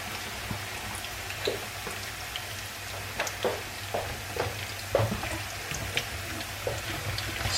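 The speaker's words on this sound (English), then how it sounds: "Again, we're just shallow frying." Potato fries shallow-fry in a pan of oil, giving a steady close sizzle with scattered crackles and pops, and no voices.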